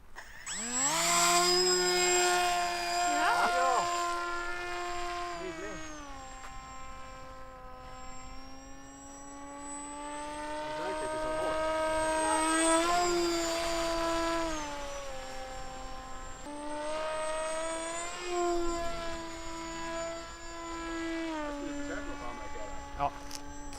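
A small RC FPV speed wing plane with a 1500 kV electric motor buzzes overhead, a high, steady whine that rises and falls in pitch as the throttle changes, with speech heard over parts of it.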